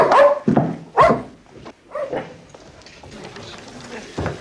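A dog barks in an October 1939 wartime setting: two sharp barks close together near the start, then quieter yelps and whines, with a voice faintly alongside.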